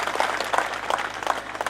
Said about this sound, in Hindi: एक बार जोरदार तालियों से उनका भी स्वागत करेंगे।